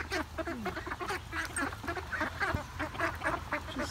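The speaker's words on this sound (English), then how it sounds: "Just threw a little scrap out for the ducklings, and this is what happens." Ducklings quacking over thrown food scraps: a close, busy chorus of overlapping quacks and peeps, continuous and excited, with a thump partway through.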